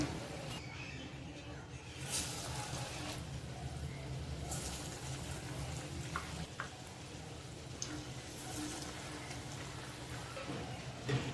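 Vada frying in hot oil while being flipped to the other side, a steady soft bubbling sizzle throughout with a few brief clinks and scrapes, no talk.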